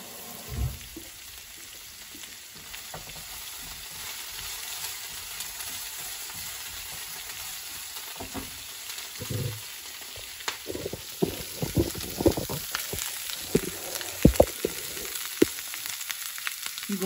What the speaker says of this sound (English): We're going to now put our pan up to medium heat for our shrimp.